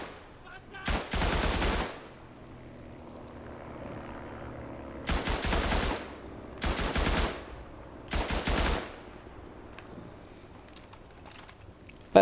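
Automatic gunfire from the video game Tannenberg comes in four loud bursts, each about a second long, separated by short pauses of quiet ambience.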